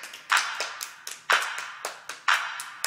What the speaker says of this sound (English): Let me hear you clap your hands.